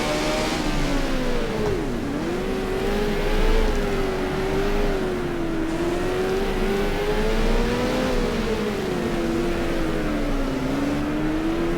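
A 1978-season Formula 1 race car in the video game F1 Challenge holds full throttle, its loud, close engine drone rising and falling steadily in pitch through the gears without a break.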